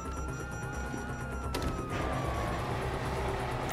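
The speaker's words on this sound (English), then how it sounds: "Hear that? Sirens!" Police sirens wail in the Grand Theft Auto 5 prologue mission, a sweeping tone rising and falling over a dense background of game noise and engine rumble, with a sharp crash partway through.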